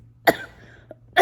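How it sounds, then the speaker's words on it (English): Two sharp coughs, one near the start and another about a second later, close and fairly loud, with a faint throat sound between them. "it's always the cough that just tends to linger and will not go away"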